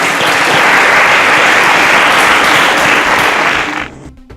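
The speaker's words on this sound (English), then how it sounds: "A round of applause for Daniel." A studio audience at a quiz show applauds a contestant named Daniel. The clapping is loud and dense, holds steady for several seconds, then tapers off quickly.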